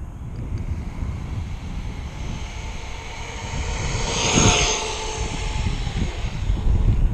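An Arrma Granite 4x4 RC car runs at top speed on a stretch of road. Its steady, whining motor rises as it passes closest, with constant wind noise and no voices.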